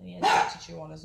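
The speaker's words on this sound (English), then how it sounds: "Sorry, that was my dog." A pet dog gives a short, loud bark indoors during a stormy spell, cutting across a person talking about toys.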